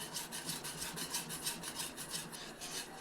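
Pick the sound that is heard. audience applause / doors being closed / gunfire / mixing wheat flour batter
mixing wheat flour batter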